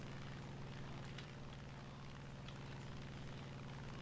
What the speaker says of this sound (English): Another plane's coming in.